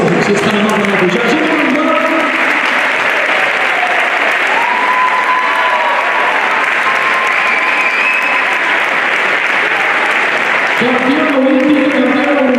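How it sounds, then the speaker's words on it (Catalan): Sustained applause from a large audience at a sports awards gala, steady dense clapping filling the hall from start to finish, with a voice speaking over it near the beginning and again at the end. "Un fort aplaudiment, si ets tan amable de pujar."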